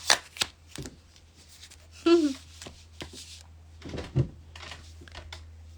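Cards shuffled for a channeled reading, a few riffling bursts and soft taps close by, with short pauses between handling sounds.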